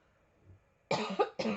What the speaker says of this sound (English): now I'm getting a little cough here